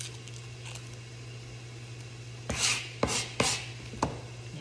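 Knife chopping red onion on a board, a few sharp irregular cuts after a quiet stretch with steady low hum in the background.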